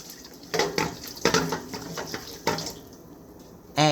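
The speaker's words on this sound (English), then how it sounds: "that's 2 ladles of very hot boiling pasta water" Very hot boiling pasta water is ladled into a heat-proof mixing bowl for Fettuccine Alfredo, giving several close splashing pours with clinking of the ladle against the bowl.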